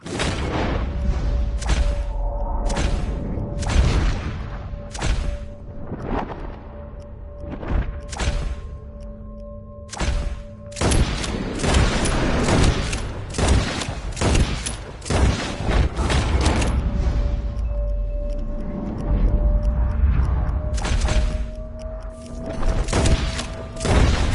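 Gunshots ring out in a Red Dead Redemption 2 shooting contest, a dense run of loud sharp reports with echoing tails, clustered in rapid bursts over a low hum.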